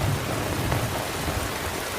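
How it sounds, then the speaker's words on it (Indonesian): Steady rain pours throughout a rainy-weather film scene, a dense continuous hiss with a low rumble underneath, close and fairly loud, with no voices. "Dalam kondisi cuaca yang hujan"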